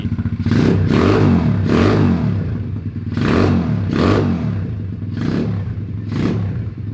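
1976 Honda Z50 mini bike fitted with a 125cc engine, revved hard in five or six loud, close bursts, each a rising throaty blat that falls back to a rough, clattering idle between pulls.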